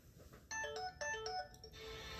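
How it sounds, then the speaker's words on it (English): A phone alarm ringing faintly, a short melodic ringtone with a few bright chiming notes over quiet room noise, lasting about two seconds. "Sorry, that's my alarm."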